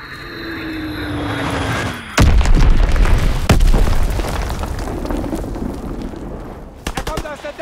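Explosions and heavy gunfire crash through a World War II battlefield in Call of Duty WW2 multiplayer, with big booming blasts around two and three and a half seconds over a constant roar of combat, plus a quick rattling burst near the end.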